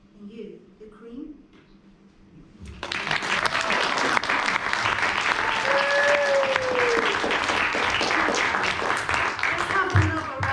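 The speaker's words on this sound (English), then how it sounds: "Let's have another round of applause there for Manny." After a poetry reading at a community event, an audience breaks into sustained applause that is loud and close, running steadily for several seconds after a quieter stretch with a voice.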